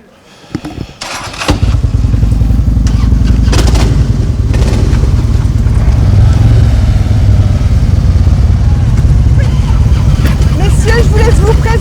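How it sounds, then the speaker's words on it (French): Harley-Davidson motorcycles at a biker gathering, engines starting up after a few clunks and then idling loudly and continuously, a deep throbbing rumble of several bikes, with voices mixed in. "J'invite tous les motards de Harley-Davidson à venir rejoindre leur bécane et à présenter leur moto."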